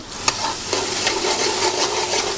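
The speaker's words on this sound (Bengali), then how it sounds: "উনি এদিকে মশলা নাড়াচাড়া করছেন" Spices are stirred in a large pot of hot oil during a group cooking session. A loud, steady sizzle fills the sound, with repeated scraping stir strokes and a sharp clank near the start. No voices.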